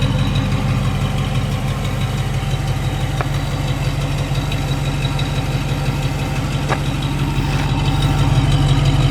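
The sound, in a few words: 1970 Ford Torino GT engine idling, exhaust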